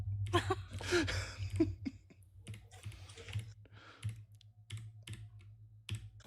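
Rapid typing on a computer keyboard, a dense run of sharp, close clicks and key taps in irregular bursts, loud at first and then sparser.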